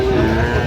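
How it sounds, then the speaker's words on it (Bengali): A Sahiwal bull calf at a cattle sale in Sylhet gives one brief, low moo, close by and fairly loud against the steady background noise of the market. "শাহিওয়ালের ষাঁড়"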